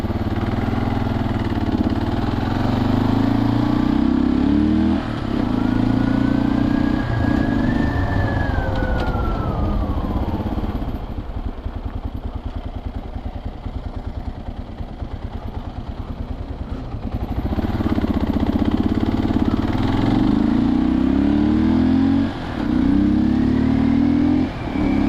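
An old Kawasaki KLR motorcycle's single-cylinder engine runs and revs through gear changes. Its pitch climbs and falls as it accelerates, then eases to a quieter stretch with wind noise before it pulls hard again.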